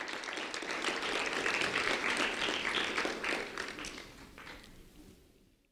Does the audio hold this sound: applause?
yes